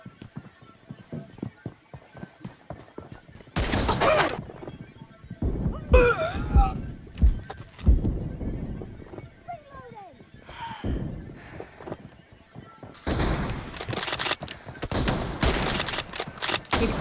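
Gunfire in a mobile shooting game, dense rapid bursts of automatic shots in several clusters with other game sounds between them, heard under and between excited voices of players talking.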